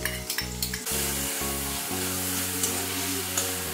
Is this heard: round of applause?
no